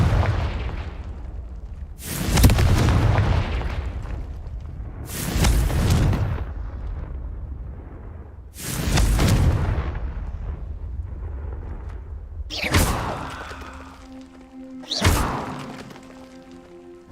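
Confringo spell blasts in Hogwarts Legacy, five heavy booming explosions spaced a few seconds apart, each with a rumbling tail, the later ones sharper and followed by a faint tonal hum.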